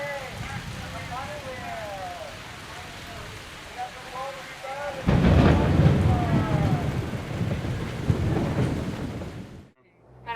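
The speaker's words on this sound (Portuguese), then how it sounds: "Essa é uma terrível tempestade perto da cidade de Niamey, na África Ocidental." A severe thunderstorm near Niamey, West Africa, brings heavy rain and a deep rumble of thunder that swells loudly midway, with people talking and birds chirping earlier in the scene.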